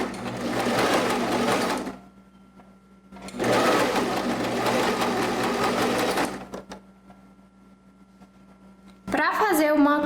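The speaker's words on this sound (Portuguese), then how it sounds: "Agora eu vou fazer aqui uma costura de 1 centímetro por toda a volta do meu" A sewing machine runs in two long steady bursts of stitching, close and loud, as a 1 cm seam is sewn around a curved neckline, with pauses between and a voice starting at the end.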